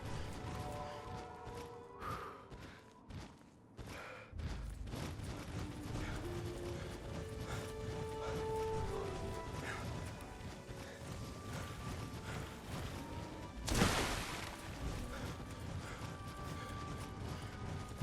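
Heavy, plodding footsteps of super mutants in Fallout, thudding and clanking rhythmically amid mechanical creaks and rattles for a long stretch, moderately close and steady, with a burst of noise partway through.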